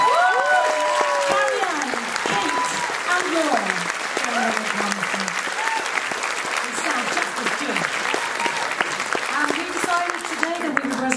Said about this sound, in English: Big round of applause for the Glamophones